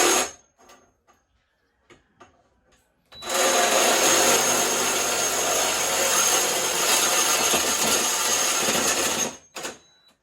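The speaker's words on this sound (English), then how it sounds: "So now I'm gonna cut the pipe on this 7 feet 4 inch mark." A metal pipe for trailer fenders being cut by a power saw, starting abruptly after near silence with a few faint taps, then a loud continuous grinding whine for about six seconds before stopping sharply, followed by a couple of brief knocks.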